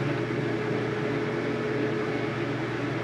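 A front-loading HE washing machine packed with a full load of wet, soaking towels, ramping into its spin cycle: a steady, close mechanical whir and hum with a low drone, continuous and unbroken throughout.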